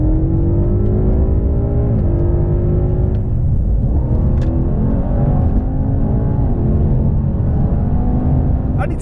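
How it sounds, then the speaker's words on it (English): A BMW M5 and a Mercedes-AMG E63 S launched at full throttle side by side, a loud continuous engine roar with rising pitch and audible gear shifts, heard close over steady wind and road rumble. "I'm going to count it in and floor the throttle, see what happens if you're challenged."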